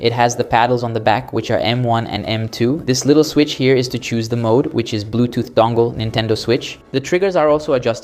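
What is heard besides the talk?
No everyday noise stands out behind the speech.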